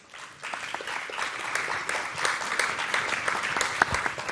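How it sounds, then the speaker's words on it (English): Audience applause after a student Powada performance at a Shivaji birth anniversary celebration, many hands clapping in a steady dense patter that swells after a quiet start, moderately distant. "So let's make huge round of applause."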